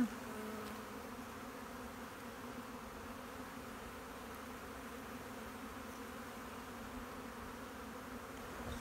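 Honey bees hum steadily from an opened hive with brood frames, a low continuous buzz close by, with faint handling sounds and no talking.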